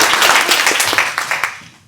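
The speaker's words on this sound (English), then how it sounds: "a big round of applause to him as well" An audience at a resilience-themed dedication night gives a round of applause for a supportive brother: dense, close clapping that stays steady, then thins and fades out toward the end.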